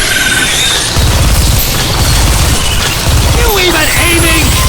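Rapid gunfire from the first-person shooter video game Bulletstorm, dense and loud, blended into a constant roar of game noise, with short tonal sweeps near the end.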